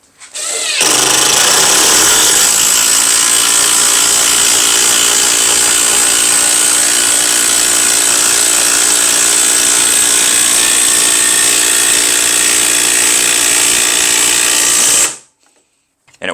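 A Makita CXT DT04R1 brushless impact driver runs continuously and loudly, driving a 3/8 by 4 inch lag bolt with a steady high-pitched hammering whir for about fourteen seconds, then stops abruptly.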